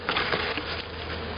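A honey bee swarm in Lithonia, Georgia hums with a dense, continuous buzz, close and steady throughout, with no other sounds over it.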